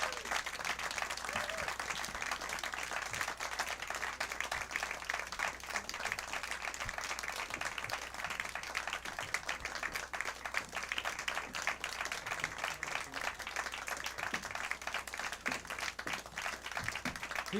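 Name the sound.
audience applause welcoming the band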